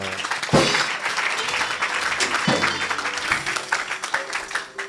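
A congregation at a Lille worship service applauds to acclaim Jesus, a dense, continuous burst of clapping with a few louder swells and faint voices mixed in.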